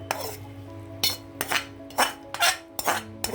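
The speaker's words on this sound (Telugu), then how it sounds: "ఇదిగో మళ్ళీ రైస్ వేస్తున్నాను నేను" Rice being spooned in layers into a pot for cauliflower biryani, giving five or six soft scraping, clinking scoops at an irregular pace over a steady low kitchen hum.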